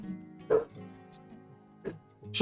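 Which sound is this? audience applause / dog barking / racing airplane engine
dog barking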